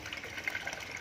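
Water from a fuel-free ram pump pouring through a hose into a nearly full 20 liter bucket, a soft steady gushing fill, faint and brief with no talk.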